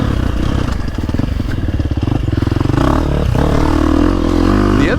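A 2024 Husqvarna FC350 four-stroke dirt bike engine runs steadily close by in woods, its note rising as the throttle opens, with a rough, throbbing rev and some rattle and clatter.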